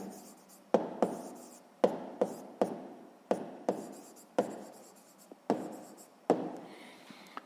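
A pen or chalk writes out the answer to a sixth-grade maths exercise, giving about ten quick, crisp strokes in an irregular rhythm, each tap followed by a brief scratch, close and fairly quiet with no talking.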